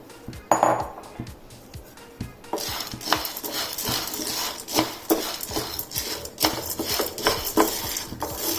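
Roasting ingredients for maladu laddu tipped into a pan on the stove, a sharp metallic clatter followed by steady scraping and stirring clinks of a utensil against the pan, close and continuous.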